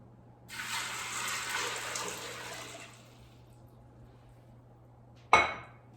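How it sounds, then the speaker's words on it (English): Water pours steadily into an Instant Pot with dry Great Northern beans for a couple of seconds, then stops; a sharp metallic clank follows shortly after over a low hum. "And I'm going to add 8 cups of water."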